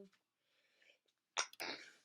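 A single close sneeze bursts out after a soft inhaling breath, short and sharp, then trails into a breathy exhale.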